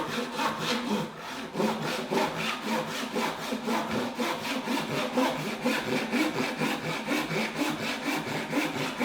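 Hand saw cutting wood for a beginner's wooden tool box, a steady close rhythm of rasping back-and-forth strokes running continuously without pause.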